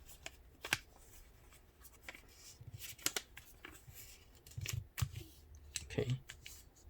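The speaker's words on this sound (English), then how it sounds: "Press it down and then I'll flip the paper over, repeat the same fold." Paper being folded into an airplane: a series of crisp rustles and soft creasing snaps at an irregular pace, some sharp and close, with a few low thumps as the sheet is pressed flat and flipped over.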